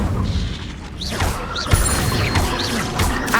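The Incendio fire spell cast in Hogwarts Legacy bursts out as a loud, dense whoosh of flame and crackle, with repeated swooping flares and a heavy impact among continuous game sound effects.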